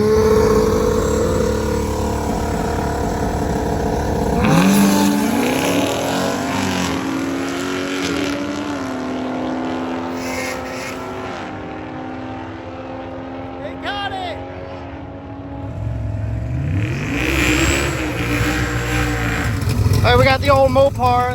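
A Dodge Magnum drag racing car making a pass at a drag racing event, with engine tones rising and falling under steady talk from nearby voices.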